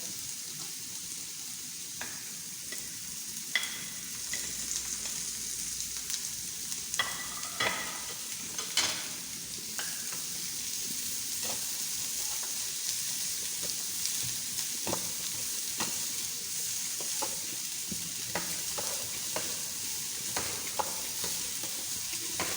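Carrots frying in a tablespoon of oil in a pan, a quiet continuous sizzle with scattered clicks and scrapes as they are stirred, faint and close with no voices.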